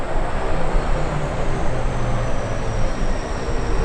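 A C-130 military transport aircraft flies past during a tactical demo at the Cleveland Airshow, a loud, continuous broadband propeller and engine roar that holds steady throughout.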